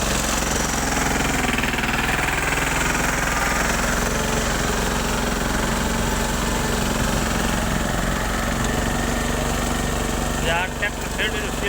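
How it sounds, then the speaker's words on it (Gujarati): A Steeltrac 15 HP tractor ploughing a field runs with a steady, loud engine drone throughout, holding a constant rough mechanical rumble with no pauses. "ખેડૂત સ્ટીલ ટ્રેક કંપનીનું 15 HPનું ટ્રેક્ટર છે."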